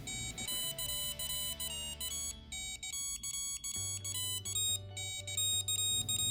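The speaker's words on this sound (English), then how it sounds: "but this time to a sound alarm" A potty training watch alarm from Kidnovations rings out as a bright, repeating electronic melody of tones, steady and close for several seconds with no talking.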